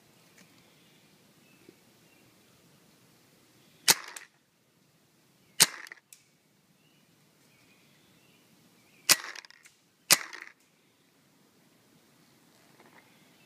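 A Spyder Victor paintball gun fires four sharp, loud shots with pauses between them, the first and last two close together, over a quiet background.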